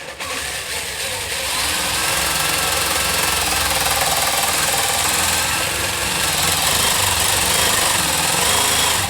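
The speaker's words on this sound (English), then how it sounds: "put that point right where I want the dowel, and I shall hold that in place and drill it" An electric drill boring a dowel hole into an oak veneered desk panel held in a doweling jig, a loud, steady whirring grind that runs continuously for the whole stretch with no voices.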